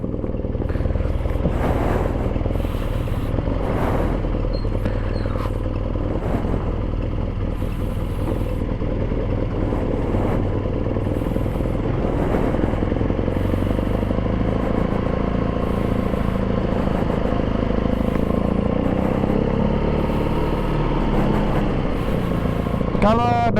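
A 2018 BMW R nineT Cafe Racer with a dry clutch rides along, its engine droning continuously with wind and road noise, the rider talking over it throughout.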